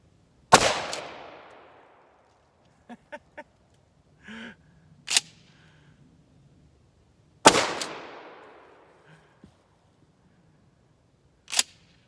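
A Remington Tac-14 shotgun fires birdshot and buckshot at pumpkins outdoors, two loud, sharp blasts several seconds apart, each trailing into a decaying echo, with quieter pump-action clicks and handling clatter between shots.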